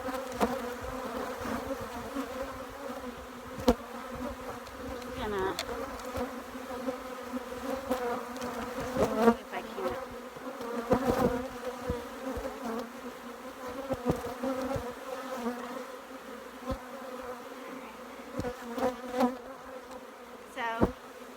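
Honey bees swarm around an apiary hive during an inspection, a continuous layered buzz with individual insects flying close by now and then, steady throughout with no talk.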